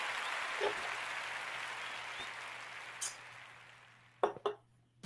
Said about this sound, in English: Joe's on the clap machine.